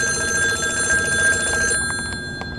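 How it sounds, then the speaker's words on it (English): An old rotary telephone's mechanical bell rings loudly and continuously, driven by an Arduino, then cuts off abruptly with a few faint clicks afterward. "Now the phone starts ringing"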